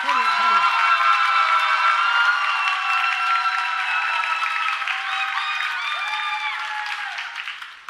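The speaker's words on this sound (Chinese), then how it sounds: "我们要一个最热烈的掌声" Church congregation at a worship service applauding and cheering warmly, steady clapping with high whoops and voices layered on top, fading slightly toward the end.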